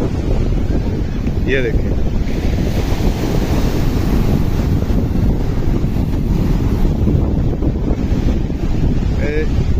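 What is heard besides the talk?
sea waves and wind at Sandspit beach, Karachi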